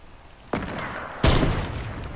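Two loud shotgun blasts in the Fortnite video game, the first at about half a second and the second stronger one a moment later, each with a sharp crack and a lingering rumbling tail.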